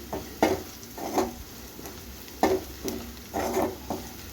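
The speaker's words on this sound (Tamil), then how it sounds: "இப்போ இதில் மிளகாத்தூளை சேர்த்து அதுவும் ஒரு நிமிஷம் இந்த எண்ணெயிலே நல்லா வதக்கணும்" Onions with chilli powder sautéing in oil, spatula strokes scraping the pan in uneven bursts over a faint sizzle, close by with no talk.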